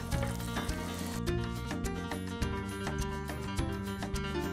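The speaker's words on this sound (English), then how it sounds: "That, my friends, is the sound of a patacón second fry." Green plantain patacones crackle and sizzle steadily in hot oil during their second fry, a dense, close frying hiss with small pops and occasional utensil clicks, no talk.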